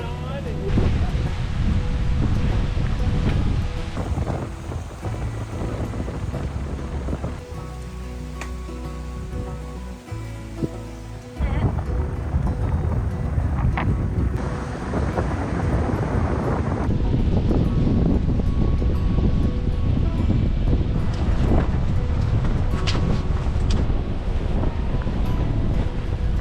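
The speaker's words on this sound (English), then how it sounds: "it's way too windy out here." Strong wind buffets the microphone on a beach on Jekyll Island with heavy roaring gusts, surf rushing in the background, while people talk intermittently.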